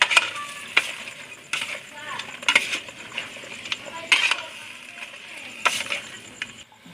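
Squash and string beans being stirred into crab in a cooking pot, with a spoon giving repeated clinks and scrapes against the metal at an irregular rhythm, close and fairly loud.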